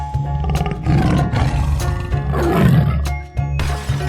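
A tiger roars loudly in a 3D animal slide video game, with a couple of deep, drawn-out growling roars over a steady game soundtrack.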